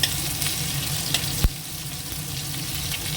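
Steady sizzling of onions frying in oil, with a sharp utensil knock midway and a few faint clinks.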